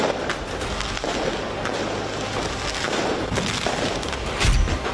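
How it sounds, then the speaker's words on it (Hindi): Firecrackers and tear gas shells are fired at police during a riot in Milan, Italy: loud irregular bangs and thuds over a constant roar of crowd noise, with a heavier boom near the end. "पुलिस पर पटाखे और आंसू बम के गोले दागे जा रहे हैं।"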